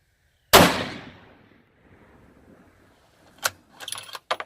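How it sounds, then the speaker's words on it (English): A single sharp rifle shot from a Ruger American Predator in 6.5 Creedmoor firing a 140 grain load, loud and close with a long decaying echo, followed by faint handling clicks and rustles. "All right, so I'm gonna shoot a group right now."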